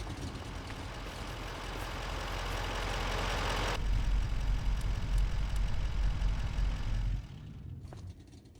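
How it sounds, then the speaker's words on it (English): A heavy diesel truck engine in Farming Simulator 25 rumbles steadily, growing louder and rougher midway, then drops to a quieter idle near the end; no voices. "I do not like the diesel engine sound that was put in there."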